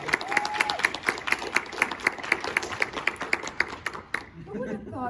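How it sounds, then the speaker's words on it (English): An audience at a comic show panel in Fayetteville, Arkansas, applauds to welcome the guests with rhythmic, fairly close clapping that fades out near the end while voices talk over it. "Please give them a massive round of applause."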